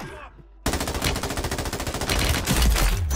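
Call of Duty MW3 Warzone gunfire: after a brief quiet moment, a loud, rapid automatic burst of evenly spaced shots hammers on, growing heavier toward the end.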